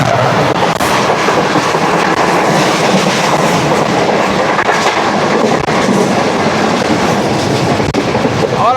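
Pak Business Express passenger train rolling past on the tracks in Karachi, a loud, steady rumble with rhythmic clickety-clack of wheels over rail joints running close and continuous throughout, with no talk.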